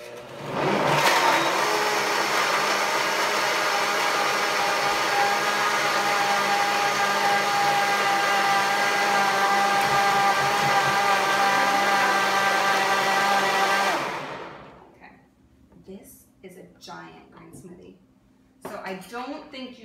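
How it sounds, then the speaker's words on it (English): A countertop blender whirs steadily at full speed, blending a green smoothie with banana, then cuts off after about fourteen seconds, leaving quieter rustling and brief voices. "So let's blend it up so it'll lower it, and then we'll add the banana."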